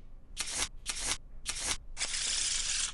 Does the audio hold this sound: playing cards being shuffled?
yes